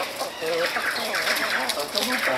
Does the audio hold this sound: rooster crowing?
yes